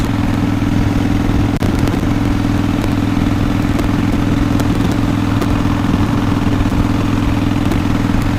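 A Harley-Davidson motorcycle engine rumbles steadily and loudly nearby while riding a two-lane island road, a low throbbing idle with clattering mechanical noise throughout.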